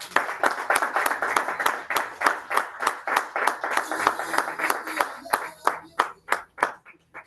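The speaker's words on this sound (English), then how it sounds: "More applause, please." Audience applause at a Toastmasters club meeting as an evaluator is welcomed, a steady run of close, sharp handclaps that thins out into a few scattered, louder individual claps near the end.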